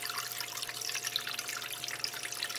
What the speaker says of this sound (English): I'm going to run this through quickly, as quick as the sluice box will take it down